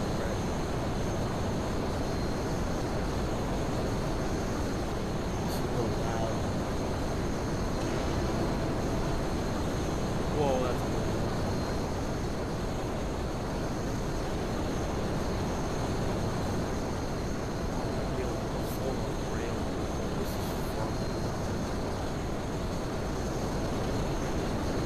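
A propeller or jet airplane flying at top speed after takeoff gives a steady, loud, broadband engine and wind roar that holds unchanged throughout, with no voices.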